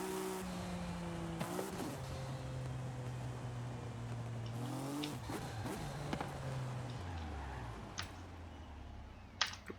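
A modern supercar in a racing video game accelerates hard down a festival drag strip, its engine droning and climbing through several gear shifts with brief drops in pitch, steady and loud without talk.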